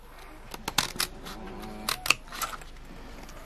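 Scissors snipping through paper for a paper tractor craft, a few sharp close cuts in two short bursts with quiet gaps between.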